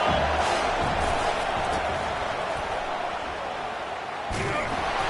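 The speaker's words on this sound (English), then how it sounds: "this crowd is turning it up a notch" A stadium crowd roaring steadily in a 2K football video game, a dense wash of cheering noise that swells slightly near the end beneath commentary.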